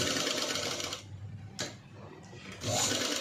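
A sewing machine runs along a blouse edge in close, steady whirring bursts, pausing briefly between runs of stitching, with no voices.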